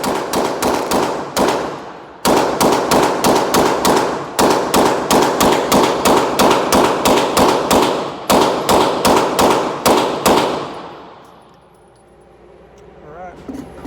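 A Glock 17 pistol fitted with a Rock Island Armory slide fires long rapid strings of shots, loud and close, with brief pauses between bursts before the firing stops and fades out.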